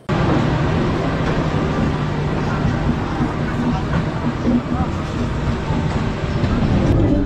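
The 13149 Kanchankanya Express passenger train runs along its route, heard from inside as a loud, continuous rumble of wheels and carriage noise with no pauses.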